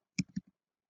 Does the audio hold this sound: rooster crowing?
no